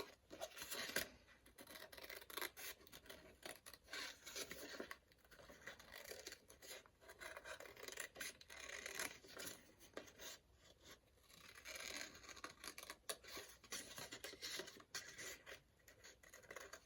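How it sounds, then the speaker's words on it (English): Scissors snipping through watercolour paper while roughly fussy cutting out a painting, a faint, close, continuous scratchy rasp of small cuts with no talking. "fussy cut this out."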